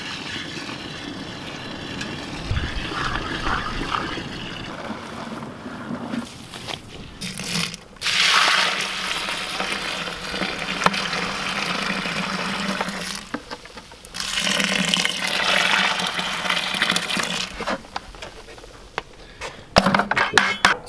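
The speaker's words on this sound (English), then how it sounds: "And we'll fill these both up with water." Water rushes steadily into two containers as they are filled, one with plain water and one with tomato powder water. The pour sounds close, shifting in pitch and pausing briefly between fills.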